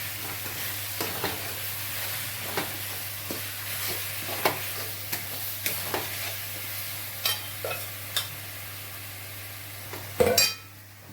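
Red chutney with chillies being stirred in a pan over low heat: a soft continuous sizzle with intermittent scraping taps of a spoon against the pan, close and clear.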